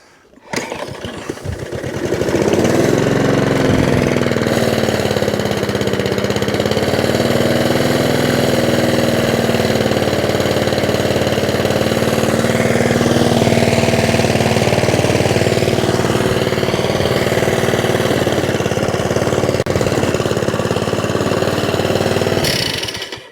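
A scrap lawn mower engine runs continuously for about twenty seconds after starting, a loud, steady rattling drone held close to the microphone.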